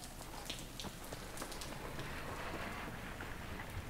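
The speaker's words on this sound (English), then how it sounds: "I do like that rain effect." Steady rain hisses and patters across surfaces in Battlefield 3, a continuous, moderately faint downpour with scattered droplet ticks and no talk.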